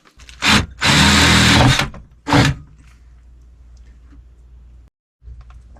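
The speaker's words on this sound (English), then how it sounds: "let's drill a hole" A power drill whirs in three bursts, a short one, a long steady run, then another short one, followed by quiet low rumbling.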